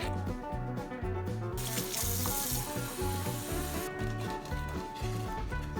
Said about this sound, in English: I'm going to dump this water out